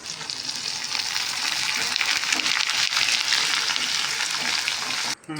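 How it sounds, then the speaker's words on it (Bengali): Small papads deep frying in hot oil, a loud, dense continuous sizzle and crackle close by, holding steady for several seconds before cutting off abruptly near the end. "ছোট ছোট পাঁপড়গুলোকে আগে ভেজে নেবো"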